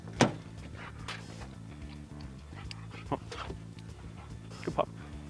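A police dog searching for a hidden flashlight during evidence search training lets out a short sharp yelp, then several soft whimpers and whines nearby over a low engine-like hum, with faint talk in the background.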